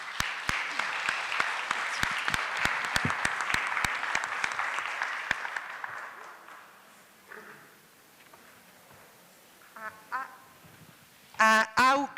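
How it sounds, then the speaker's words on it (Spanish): An audience at a panel on Indigenous peoples in large cities gives warm applause, dense clapping for about six seconds that fades out, followed by scattered noises and brief speech. "por lo cual pasamos a la entrega de reconocimientos de nuestros participantes, para quienes les pido un caluroso aplauso."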